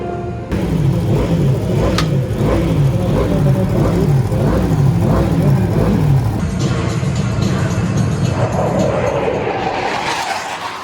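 Loud massed motorcycle engines roar and rev together at the start of the 2020 24 Hours Le Mans Moto endurance race, a dense wall of engine noise with rising and falling revs throughout.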